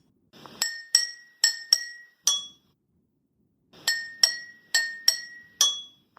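Pint glasses and a measuring cup filled with water are struck in two runs of five bright, ringing clinks, evenly spaced and close, each tone lingering briefly before a pause, with no voices.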